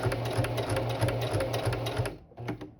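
Sewing machine running in a steady stitching rhythm while sewing a Naruto-style Kakashi jonin vest, with a brief pause near the end before a short restart; close and fairly loud, no talk.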